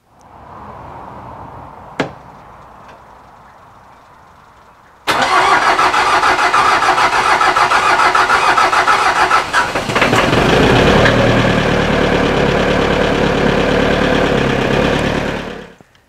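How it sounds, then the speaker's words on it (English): A diesel tractor engine with working glow plugs cranks over and fires, settling into a loud, steady rattling idle that runs for about ten seconds before cutting off, with no talking. "Our tractor should start right up."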